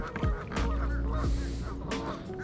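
Geese honking near a creek while kayak fishing, several loud close honks in quick overlapping succession over a steady outdoor background, no talk.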